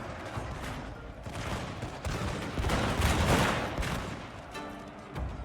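Matchlock arquebus volley in the strategy video game Total War: Shogun 2, a rolling crackle of many muskets firing together that swells to a peak midway and then tapers, set against ambient battle noise.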